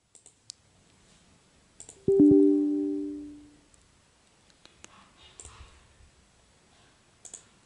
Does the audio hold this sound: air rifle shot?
no